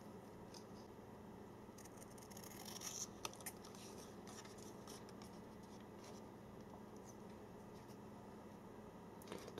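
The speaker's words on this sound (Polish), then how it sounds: "Ta karta jest dość twarda, ale dobre nożyczki sobie z tym radzą." Scissors snipping and scraping through a stiff plastic SIM card, faint small cuts and rubbing scattered across a quiet room background.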